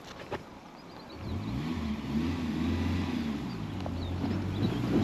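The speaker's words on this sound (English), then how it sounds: "give her more revs, more revs, more revs" Suzuki Jimny off-roading with its engine revving up and holding a steady, loud drone with rising and falling pitch, heard close and alone.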